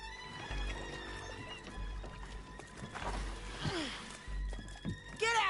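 Horses in a Red Dead Redemption 2 game scene whinny and neigh loudly while hooves clop over a low rumbling background, with several sharp calls rising near the end and character voices speaking throughout.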